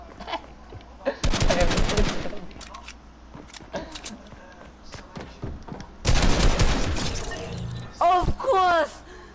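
Video game gunshots in two loud rapid bursts separated by quieter scattered shots and clatter, with excited voices talking over them near the end.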